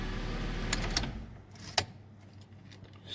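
A Mitsubishi Lancer X with a 2.0 engine idles with a low steady hum after an alternator belt repair, then is switched off. The hum cuts out after about a second, leaving a few light clicks and near silence.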